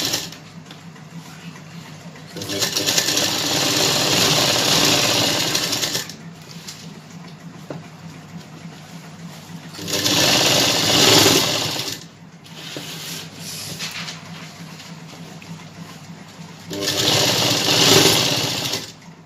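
Sewing machine stitching a mirror work lehenga, running in three separate bursts of a few seconds each with steady, fairly loud mechanical whirring and quiet pauses in between, no talking.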